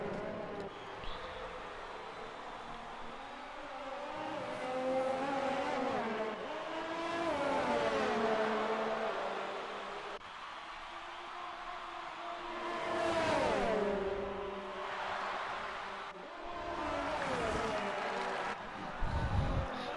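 Race cars roar through a Japanese Grand Prix in a racing video game, engines rising and falling in pitch as they accelerate and shift, a steady close drone that swells and dips throughout with no voices.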